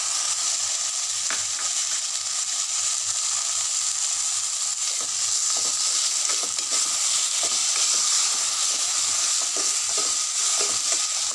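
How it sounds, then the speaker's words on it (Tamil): Onion and tomato fry together in a pan for a cabbage dish, producing a steady, moderate sizzle broken by scattered stirring clicks and scrapes for several seconds, with no talking. "வெங்காயம் லேசாக வதங்கவும் தக்காளி சேர்த்துக்கிறோம்."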